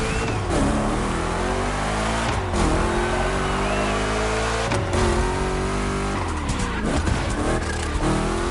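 Two Chevy big-block cars, including a 3100 big block edition, race in The Crew Motorfest: loud, continuous engine roar with revving shifts and repeated tire squeal through rough turns.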